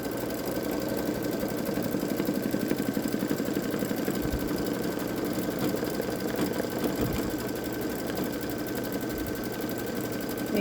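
Babylock Solaris Vision embroidery machine stitching a patriotic gnome design, a steady rapid mechanical hum and whir running continuously at close range with no pauses.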